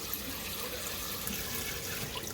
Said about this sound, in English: So I just take little handfuls and rinse it off.